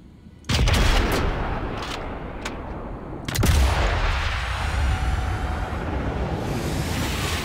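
Gunfire in the Sniper Elite 5 video game: a loud, sharp shot and then a second heavy report a few seconds later, each followed by a long, booming, reverberant tail and some fainter cracks in between.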